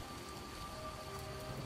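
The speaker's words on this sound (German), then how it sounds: "Und es regnet schon wieder." Soft, steady rainfall in the video game The Witcher Enhanced Edition, with a constant hiss of drops, fairly faint and unbroken throughout.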